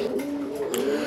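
Low, rolling coos from a restless male Raj Golla pigeon, a red or sky-blue domestic breed, repeat steadily in a continuous murmur close by with no talk over them.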